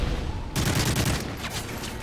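Gunfire in a capture-the-flag match of a video game on the Dome map, a loud burst of rapid shots starting abruptly and rattling on as a dense, close volley.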